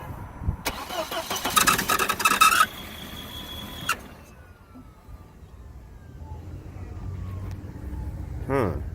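A B5 Audi A4 engine cranks and catches after a crankcase breather tube and PCV hose repair, a loud burst of starter and engine noise that settles into a quieter idle, with a squeal rising near the end.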